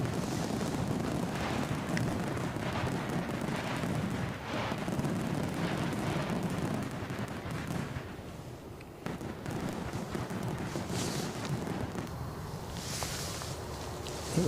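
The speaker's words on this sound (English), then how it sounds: "Fireworks coming your way." Fireworks sound effect played on a livestream, a continuous rumbling crackle of bursts and booms that stays loud and dense throughout, with no talk over it.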